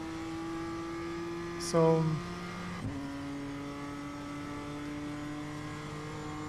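BMW M2 race car at Oulton Park in iRacing holds a steady engine tone, with a sharp burst and a brief gear-change dip near the start before settling back to an even drone, a voice speaking briefly.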